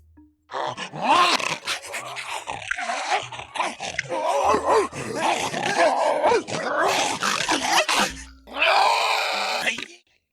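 A voice actor imitates a dog with harsh barks, guttural grunts and high squeals, loud and close, in rapid overlapping bursts that continue almost without pause.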